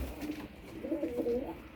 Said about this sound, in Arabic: وده الحمام بتاعي اهو.